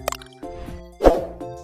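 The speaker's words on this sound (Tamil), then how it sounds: "உள்ளி, இதோட வெங்காயம் போடுவோம்." Chopped onions dropped into a hot cooking pot with ginger and garlic for vada kuzhambu, a soft plop and brief sizzle, then a louder wet splat, close by and alone.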